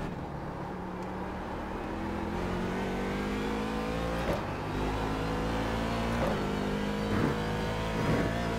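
Race cars in iRacing, C7 Daytona Prototypes at Silverstone, rev hard under load with rising and falling engine pitch and sharp gear shifts, steady and fairly close with no talk.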